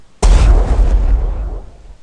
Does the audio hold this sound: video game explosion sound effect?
yes